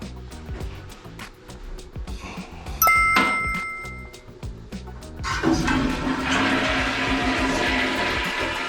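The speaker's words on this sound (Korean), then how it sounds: "변기물 내리니까 여기로 물이 올라오네." A toilet flushes with a rushing, gurgling surge of water, preceded by a few chiming tones and clicks, in a house whose septic tank is backing up after heavy rain.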